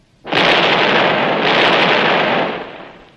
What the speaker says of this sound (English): Artillery! Bring the artillery!